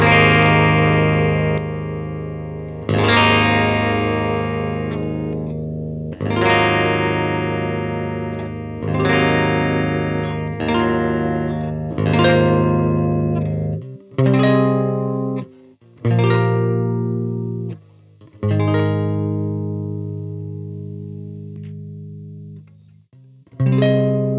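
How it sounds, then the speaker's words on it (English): Clean electric guitar through a Neural DSP Archetype Misha Mansoor X clean amp with effects switched off, playing ringing sustained chords, several long strums then shorter choppier ones, loud and clear with no talking. "So here's the clean amp."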